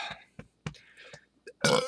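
A weak little burp after a swig of Mountain Dew soda, one short close eructation at the end that follows a few soft mouth and throat sounds.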